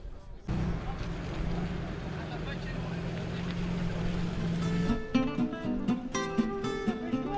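A low, steady motor rumble of a Paris bateau-mouche sightseeing river boat hums on, with a busier mix of sounds and voices joining near the end.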